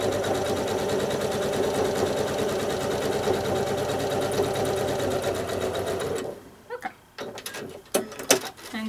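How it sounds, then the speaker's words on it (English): A sewing machine zigzag stitching and basting a large applique onto a quilt background, running steadily and loudly for about six seconds, then stopping and giving way to scattered clicks and handling sounds. "now I'll do the exact same thing, zigzagging, basting, getting everything nice and stable on this red side"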